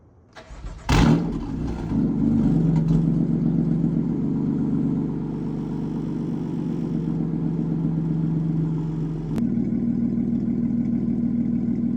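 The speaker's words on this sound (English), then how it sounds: "I'm about to do a cold start on my BMW M4." A BMW M4 with the S55 engine cold-starts with a sharp crank and a loud flare. It then settles into a steady, rumbling high idle that holds for several seconds. A brief click near the end is followed by a slightly lower idle.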